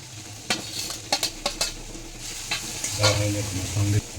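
Steady sizzle of ingredients for a flattened-rice pulao frying in a pan, with a series of sharp scraping and clinking stirs from a utensil against the metal.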